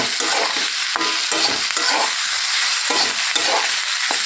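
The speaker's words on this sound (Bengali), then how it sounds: "কুদরিটা কিন্তু এরকম একটু লাল লাল মতো করে ভেজে নিতে হবে" Ivy gourd (kundri) fries in a pan of hot oil, browning to a reddish colour; a steady close sizzle runs throughout, broken by several sharp scraping stirs, with no voices.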